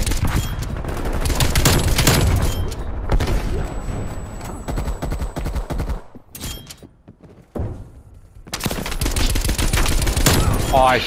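Dense rapid gunfire in the video game Call of Duty Black Ops Cold War, sustained bursts of automatic shots with brief lulls, loud and close, with a player talking faintly over it.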